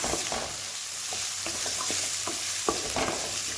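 Finely chopped onions fry in a hot pan for paneer bhujia, a steady sizzle with scattered scraping stirs of a spoon against the pan, close and continuous, no talking.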